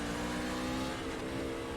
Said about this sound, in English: As soon as it fired, you can hear the engine just roar, and the RPM's way, way too high